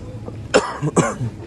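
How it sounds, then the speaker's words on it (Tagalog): Two sharp coughs close to the microphone, one after another, followed by a short throat sound. "Inuubo ako."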